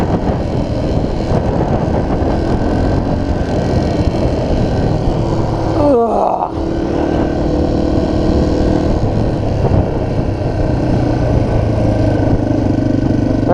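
A dirt bike engine runs at high revs close by, a loud continuous buzzing drone that dips briefly near the middle as the pitch shifts, then carries on steadily.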